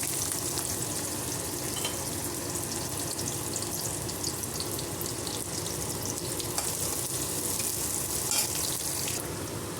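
Chopped medium onion sizzles steadily in hot oil in a pan for an okra fry, a dense, even crackle that stays loud and continuous with no voices.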